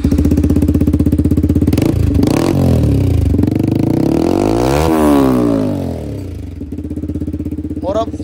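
A Yamaha MT15 motorcycle fitted with an Akrapovic double barrel exhaust revs loudly up close, its engine climbing and falling through several throttle blips before settling to a steady idle.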